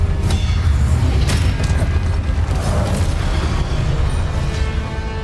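Spell explosion in Hogwarts Legacy, a deep rumbling boom with crackling bursts that sustains loudly throughout and slowly fades toward the end.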